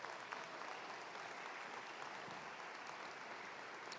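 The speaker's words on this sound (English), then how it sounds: "Let's give these individuals an applause." Steady, dense audience applause fills a commencement ceremony hall, a continuous wash of many hands clapping at even loudness throughout, with no voices standing out.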